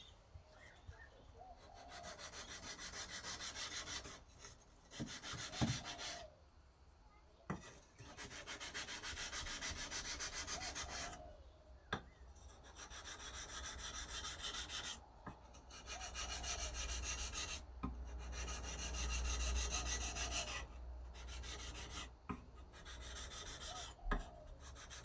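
A scandi grind bushcraft knife blade rubbed back and forth on a sharpening surface, steady sawing-like strokes repeating close and loud with brief pauses between passes, no talking.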